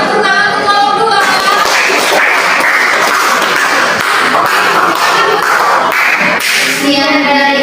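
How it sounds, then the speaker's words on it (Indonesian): Classroom applause for a student group, a burst of clapping mixed with voices and some knocking thumps, loud and close, with talk at the start and end. "silakan kalian berikan tepuk tangan untuk kelompok 2"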